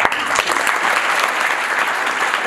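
A large indoor audience claps steadily, a dense wash of applause that holds at the same level for the whole stretch.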